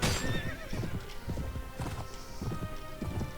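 Rapid clip-clop of galloping hooves with horses neighing and whinnying during a cavalry charge in Mount and Blade: Warband, a busy, dense burst of animal noise with no talking.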